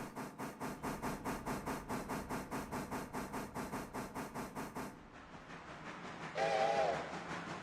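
A custom flat-top locomotive steam whistle in the railroad game Railroader gives one loud, short harmonic blast near the end, after several seconds of steady, rhythmic steam chuffing.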